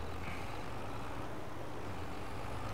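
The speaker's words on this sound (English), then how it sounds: "I just hope this tractor got enough power" A tractor engine in the farming video game Farming Simulator 22 rumbles steadily and quietly, with a constant low drone and broadband noise that carries through the whole short stretch, with no one speaking.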